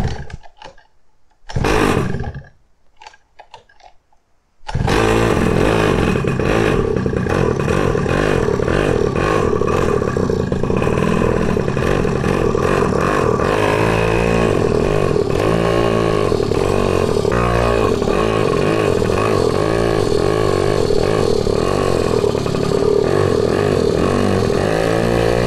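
A small pocket bike engine revs continuously and loudly under a rider, a steady buzzing drone with throttle swells after a brief quiet start with a few faint knocks.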